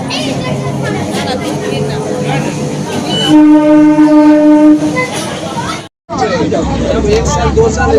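Loud rumble and clatter of a moving local train from Baruipur with crowd chatter all around, a sustained horn blaring midway, then a brief cutout.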